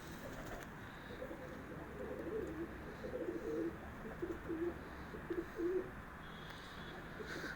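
Pigeons coo softly in a loft of high-flyer and low-flyer crosses with banded Aseel-type birds, low repeated coos rising and falling over a steady background hiss, no voices.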